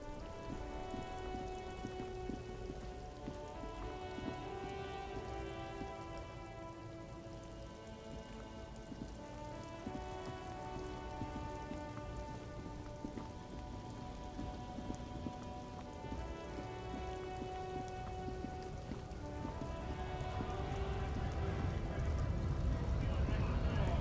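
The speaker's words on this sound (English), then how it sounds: "Stuck in the rain in a traffic jam" Steady rain falls in the detective role-playing game Disco Elysium, a constant hiss over a sustained tonal musical backdrop, swelling louder and heavier in the final seconds.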